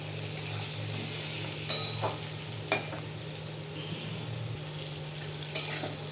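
Potato and vegetable stems frying with turmeric and onion in a pan, a steady soft sizzle under a constant hum, punctuated by a few sharp spatula scrapes while being stirred.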